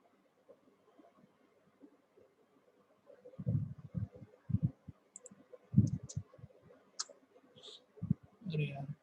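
Computer mouse clicks during AutoCAD drafting, several sharp, close single clicks spaced irregularly, mixed with someone talking.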